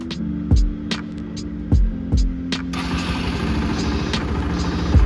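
A Bajaj Pulsar NS motorcycle, freshly given a carburettor overhaul, fires up on the first press after a few sharp starter clicks and settles into a steady, loud close idle.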